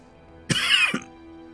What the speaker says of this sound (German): Da muss ich doch gleich husten.